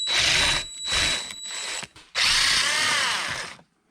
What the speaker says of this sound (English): you need to unbolt the airbag right there. There are two 10mm bolts that need to come out